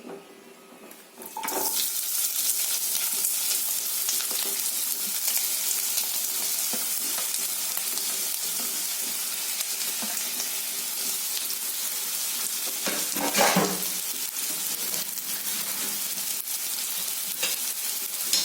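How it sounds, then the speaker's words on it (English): Onions, curry leaves, ginger and green chilies dropped into hot oil for a vegetable masala curry, setting off a loud, steady, close sizzle that continues throughout, with a brief flare in the middle and no voices. "Once the oil is hot, you add in your onions, curry leaves, ginger and green chilies."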